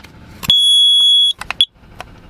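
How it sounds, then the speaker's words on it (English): A battery-powered smoke or carbon monoxide alarm sounds inside a Jeep during winter camping at -12°: one long, piercing, loud beep, then a few short clicks and a brief chirp. "we got a smoke alarm, or CO2 alarm"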